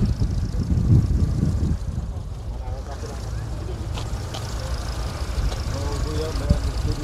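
A 2010 Daewoo Nexia with a 1.5-litre engine runs at a used-car market in Aktau, giving a steady low rumble throughout with voices in the background.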